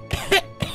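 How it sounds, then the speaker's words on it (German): Someone with a cold coughs loudly and up close, giving two or three short, harsh coughs in quick succession. "Wer hat denn da gerade gehustet?"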